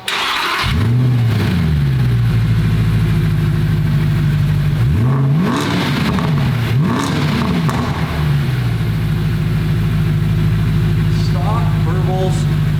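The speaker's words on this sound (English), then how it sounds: "We have an official cold start right here, right now. Fire this bad boy up." A stock Mercedes SLS AMG Black Series fires up from cold with a loud starter whine and bark, then blips through a few sharp revs before settling into a steady, rumbling high idle, with brief talk near the end.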